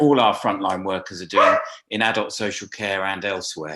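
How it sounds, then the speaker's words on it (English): A dog barks in the background during a remote press conference, with short yips mixed under continuous nearby speech. "And I do apologise about my dog in the background."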